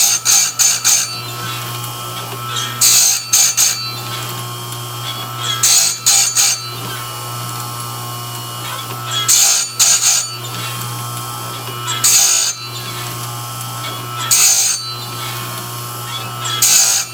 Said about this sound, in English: Them stone wheels, whenever you grind with those things, you can see the tooth get red if you take it in too hot.